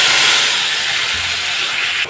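Ground spice paste added to hot oil in a pan while cooking okra, a loud hissing sizzle that starts at full strength and slowly eases, alone with no speech.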